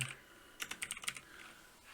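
Computer keyboard keys clicking in a quick burst of typing at a desk while opening a PowerShell window; about a dozen close, crisp taps land in the middle, with quiet before and after and no talk.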